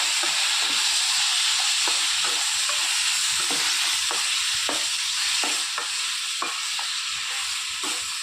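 Tomatoes frying in a pan with half-boiled vegetables: a loud, steady, close sizzle and hiss with repeated soft scraping taps of a stirring utensil throughout, and no one talking.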